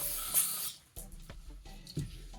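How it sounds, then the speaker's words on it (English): Carb cleaner sprayed into the carburetor of a 2005 Honda CRF150F, a short hissing spray burst up front followed by quieter handling clatter and a few light knocks, close and fairly quiet. "Now spray carb cleaner into there."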